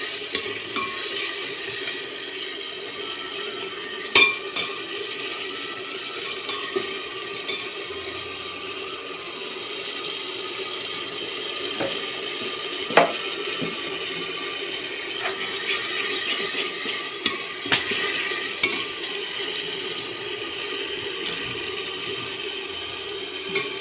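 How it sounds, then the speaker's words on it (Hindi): Peas and mushroom curry frying with turmeric in a pan, giving a steady soft sizzle, with occasional faint clicks and spatula taps on top. "अब डालती हूँ थोड़ी हल्दी इसको थोड़ी देर भून लेती हूँ"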